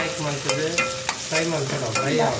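Onions frying in a pan for dal, with a steady sizzle under repeated stirring and occasional sharp scrapes of a utensil against the pan; close and fairly loud, with no voices.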